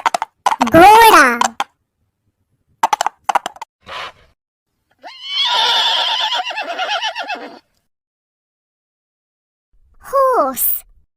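A horse whinnies several times in loud, close bursts separated by silence, including a long quavering neigh in the middle and a shorter one at the end.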